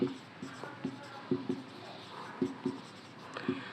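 Chalk or pen strokes writing out an algebra expression for a Class 8 math lesson, a series of short scratchy taps and strokes in irregular bursts, close and fairly quiet, with no talking.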